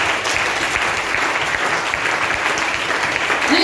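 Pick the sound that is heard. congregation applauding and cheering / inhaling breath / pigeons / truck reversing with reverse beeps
congregation applauding and cheering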